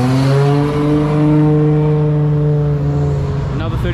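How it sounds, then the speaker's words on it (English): A Nissan R33 GTR driving away from a car meet, its engine note loud and close with a strong steady tone and gentle pitch swells as it pulls off. "Here we've got a beautiful R33 GTR."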